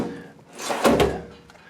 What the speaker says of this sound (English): These drawers will slam and bounce back.